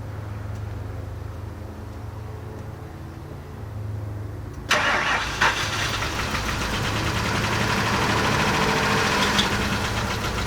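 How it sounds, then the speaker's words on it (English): A bi-fuel truck engine cranks and catches partway through, jumping from a quiet low hum to a loud, steady rough idle that continues close by with no talk. "we're gonna start it up and move it back to its spot"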